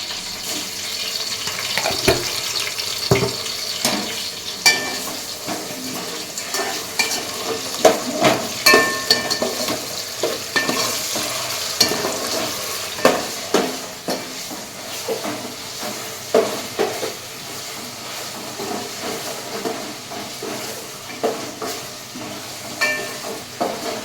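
Ginger garlic paste frying in a pan for coconut milk rice, a bright crackling sizzle broken by repeated scraping stirs and clinks of a spoon.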